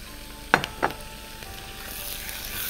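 Cubed liver dropped into a very hot pan gives two sharp, close splatting bursts, then a softer sizzle that slowly builds.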